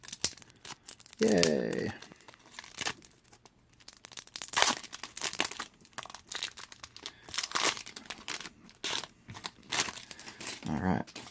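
Card box packaging for a Magic: The Gathering Ravnica Allegiance Deck Builder's Toolkit is cut and torn open with a knife, giving repeated crinkling rips and crunches in bursts, close by, with a brief spoken exclamation.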